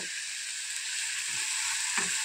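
Small fish sizzling steadily in hot oil in a pan for an Assamese fish khar, a continuous bright hiss with a few soft stirring knocks, close and alone.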